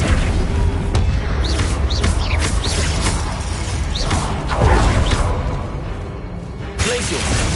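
Flipendo spells cast in a Hogwarts Legacy battle, heard as repeated sharp whooshing bursts and booming impacts over dense, loud game action.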